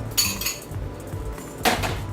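A wire whisk mixes sugar into flour in a bowl, two sharp clinks of metal against the bowl about a second and a half apart with soft scraping between them, close and without speech.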